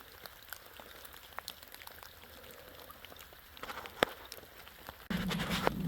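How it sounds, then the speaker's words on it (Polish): Steady rain falls around a lakeside camp with a campfire, a soft continuous patter with scattered drips, faint and close, growing louder and denser near the end. "Deszcz non stop."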